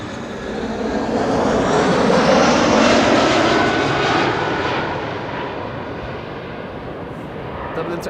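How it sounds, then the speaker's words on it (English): Aer Lingus Airbus A320 jet arriving at Amsterdam Schiphol from Dublin, a loud broad engine roar that swells and slowly fades as the plane passes. "Aer Lingus, aka Shamrock, flight 604, arriving from Dublin,"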